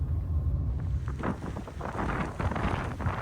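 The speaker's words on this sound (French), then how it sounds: "Et là, la tempête se relève pile poil pour ma première mission." Storm wind gusts along a road on Yakushima island, roaring and buffeting the microphone in rough, uneven waves that swell and ease throughout.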